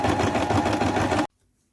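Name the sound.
sewing machine sewing sleeves onto a top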